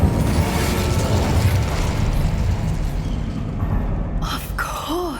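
Incendio fire spell cast in Hogwarts Legacy, a roaring, crackling burst of flame that sustains loudly then fades, followed by brief chiming magical tones near the end.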